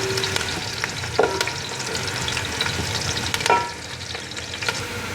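Onions frying in a pan until light golden brown, a continuous loud sizzle with occasional stirring scrapes and clanks.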